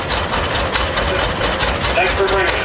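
A 1927 two-cylinder tractor at an outdoor farm expo idles loudly and steadily up close, its engine chugging on without pause, with voices faintly talking in the background.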